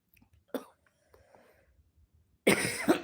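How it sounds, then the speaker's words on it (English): Two harsh coughs, one early and a louder, longer burst near the end, with faint murmuring in the quiet stretch between. "I have this terrible cough."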